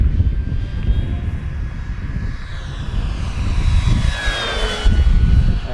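An FMS 1450mm P-51 Mustang Red Tail V8 radio-controlled plane makes a fly-by, a loud steady whine of electric motor and propeller that rises and swells as it passes overhead, with no talking.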